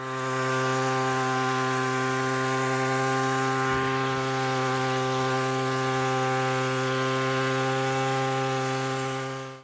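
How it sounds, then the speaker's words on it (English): A motorized tea harvester cuts through tea plants on a plantation, giving a loud, steady, high-revving two-stroke engine drone with a strong buzzing tone that holds unbroken throughout. "Tea plantations facing acute shortage of labor are using this tea harvester successfully."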